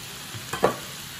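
A brief, quiet scrape and sizzle comes as food frying in a pan is stirred once for dinner, with a short burst of spatula movement.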